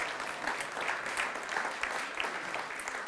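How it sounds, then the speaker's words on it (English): Steady applause from a seated audience at a gathering, a continuous wash of many hands clapping at moderate volume for the whole stretch with no voices over it. "And a round of applause."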